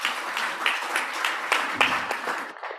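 Audience applause fills a conference hall after a presentation at a mining and resources investor event, a steady dense clapping that holds for a few seconds before tapering off.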